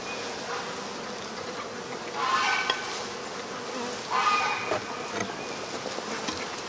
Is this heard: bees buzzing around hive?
yes